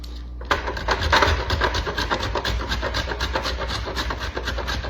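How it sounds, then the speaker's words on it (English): Butter grated into flour for homemade biscuits, a loud, close, continuous rasping scrape in quick repeated strokes after a brief quiet start. "So you grate the butter into your flour."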